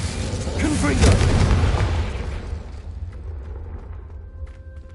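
A Confringo explosion spell in Hogwarts Legacy, a deep booming blast that swells over the first couple of seconds and then decays into a fading rumble, with a voice underneath.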